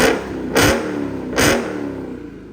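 A straight-piped Dodge Challenger Hellcat Redeye fitted with 5-inch Carven exhaust tips barks through two sharp, loud revs close by, each a short burst that settles back to a rumbling idle.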